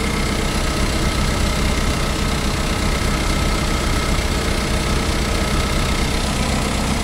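The 2.5-liter Iron Duke four-cylinder engine of a 1989 Chevy S10 Tahoe idles steadily, a loud, close, unbroken rumble with no voices over it.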